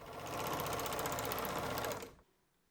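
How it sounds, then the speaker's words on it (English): An overlocker sews along a dress seam allowance in one fast, steady whirring run of about two seconds, close and loud, then cuts off sharply to near silence. "Then you can overlock the seam allowance."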